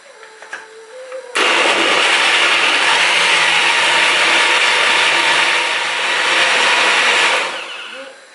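A blender starts abruptly and whirs loudly for about six seconds, a dense grinding roar, then winds down; faint sounds precede it.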